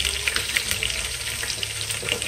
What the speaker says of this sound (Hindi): ये आलू फ्राई हो जाए इस तरह से थोड़े से